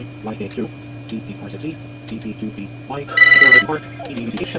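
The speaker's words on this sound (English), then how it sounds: "phone is ringing" A telephone rings in a room where someone is reinstalling software on a failing digital picture frame computer: a short, bright electronic ring burst over steady machine hum, with people talking before and after it.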